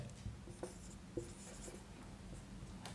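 A pen scratches across a board in short, faint strokes with a few light taps, quiet and close amid a steady low room hiss, with no talking.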